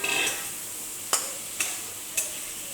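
Vegetables frying in hot oil for a fish curry, a steady sizzle that fades after the first moments, then three sharp, close clicks of a utensil against the pan at even intervals.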